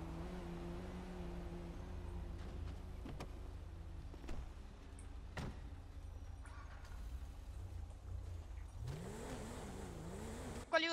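A car engine in a GTA V roleplay game hums at a low steady idle, then revs up with a rising whine near the end.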